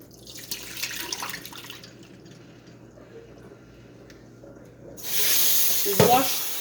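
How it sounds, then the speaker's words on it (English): Tap water runs over shrimp in a sink while they are rinsed, starting as a soft splashing trickle and then turning into a louder, steady hiss of running water near the end, with a voice talking early on. "pouring off the water now."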